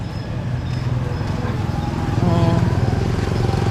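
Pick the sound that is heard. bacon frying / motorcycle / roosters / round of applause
motorcycle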